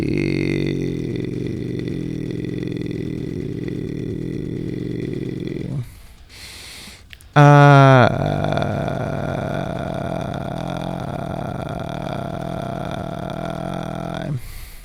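A metal-vocal warm-up voice sinks into the creaky vocal fry register, a low rattling drone held for several seconds, broken by a short breath and a brief higher vocal burst, then the gravelly fry returns and sustains close and loud.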